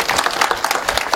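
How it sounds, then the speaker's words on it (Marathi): Audience applause at a Marathi kirtan gathering honoring the pakhawaj player, many hands clapping in a loud, brisk, uneven rattle with distinct individual claps close by, no voices heard. "त्यांच्यासाठी जोरदार टाळ्या."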